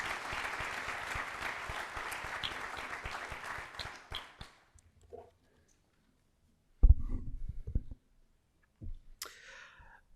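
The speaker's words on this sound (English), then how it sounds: "Please give a round of applause for our sponsors tonight." Audience applause for sponsors at an evening speaker event, a thick burst of clapping that thins into a few scattered claps and dies out within about four seconds, followed by near silence with a couple of brief thumps and rustles.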